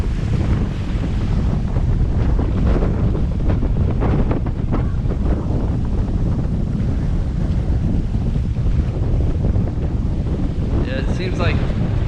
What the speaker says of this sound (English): Watch the waves start to build.